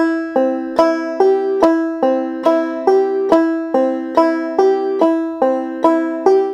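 A clawhammer banjo plays a steady, bright rolling drop-thumb picking pattern, plucked notes ringing in a quick even rhythm with regular accented thumb strokes, close and clear, no talking.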